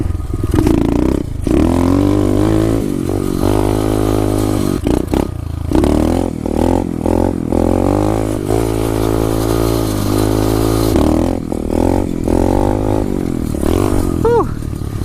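An SSR 125 pit bike engine revs hard and loud during wheelie attempts, its pitch surging and dropping repeatedly with brief throttle cuts, heard up close from the rider's position.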